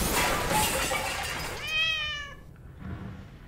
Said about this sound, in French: c'était juste le chat, c'était juste le chat.